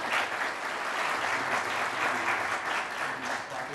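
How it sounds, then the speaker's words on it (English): A seated audience applauds a panel on hurricane disaster resilience, a steady, even wash of clapping that holds at moderate volume from start to finish with no talking. "So applause, please."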